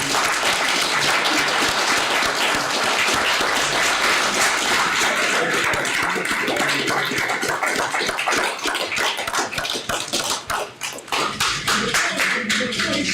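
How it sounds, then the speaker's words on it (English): Applause from the audience at a Reidsville city council meeting, sustained and loud hand clapping that fills the room before thinning into scattered claps toward the end. "Please, everybody, give this man a round of applause."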